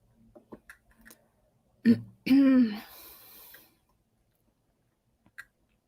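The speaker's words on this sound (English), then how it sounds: "sorry for clearing my throat" A single throat clearing from someone with a slight cold, harsh and close, standing out after a few soft clicks and quiet mouth noises, then near silence.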